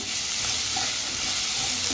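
Whole cumin, bay leaf and small pieces of chopped garlic hit hot oil for a boal fish curry, giving a loud, dense, continuous sizzle up close without a break.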